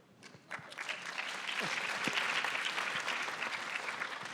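An audience at a summit of first ladies and gentlemen breaks into applause, starting with scattered claps and quickly swelling into sustained, dense clapping from a large crowd.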